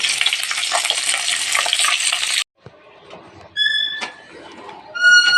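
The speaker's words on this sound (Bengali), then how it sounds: "এবারে লাঠা মাছগুলো ভেজে নেব" Loud, hissing sizzle of latha fish frying in hot oil, then it quiets abruptly. Clinks and stirring follow, and bird chirps sound in the background.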